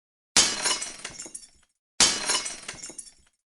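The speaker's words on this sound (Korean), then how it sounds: "유리 깨지는 소리가 길에 퍼졌다" Shop window glass smashed with a shoe heel in an audio drama, heard as two separate loud crashing shatters about a second and a half apart, each trailing off in tinkling fragments, with no speech.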